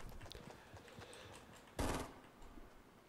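A single sharp gunshot goes off in Fortnite, a sudden loud burst standing out over faint, low in-game background sounds.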